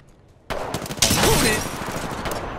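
Gunfire in Apex Legends breaks in loudly after a half-second of near silence, a second burst follows, and dense crackling shots and battle noise carry through to the end.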